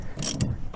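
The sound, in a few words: ratchet wrench turning a bolt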